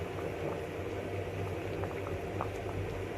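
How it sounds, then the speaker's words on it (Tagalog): Water bubbles steadily in a pot for nilaga soup, a continuous low rolling boil with small pops, fairly quiet and with no talking. "Ayan, kumukulo na."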